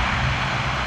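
A Flybe Dash 8-Q402 turboprop airliner taking off from Exeter Airport gives a steady, loud engine roar with a deep low rumble, heard alone and without pause.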